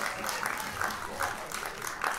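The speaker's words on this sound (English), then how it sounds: "A round of applause for the Zoetropolis staff and all of the volunteers that made this happen." Crowd applause at the Lancaster Roots & Blues Festival for Zoetropolis staff and volunteers, a dense steady wash of clapping with a few brighter claps and cheers rising through it.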